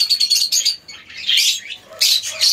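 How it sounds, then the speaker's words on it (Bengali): Caged lovebirds, a lutino Fischer's pair and a violet masked pair, give sharp, close, repeated high chirps and squawks in quick bursts. "একটা লুটিনো ফিশারের স্প্লিট পেয়ার রয়েছে, একটা ডিমে তা দিচ্ছে আর একটা বাইরে মেলটা।"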